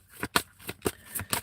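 Tarot cards being shuffled by hand, a series of about six crisp riffling bursts in an irregular rhythm, close and clear with no talking over them.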